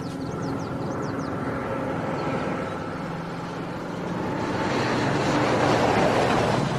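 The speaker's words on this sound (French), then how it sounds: "un bruit de moteur à midi, descends" A distant engine rumbles in from afar, swelling steadily louder over several seconds against a broad, hissing outdoor background, with no talking.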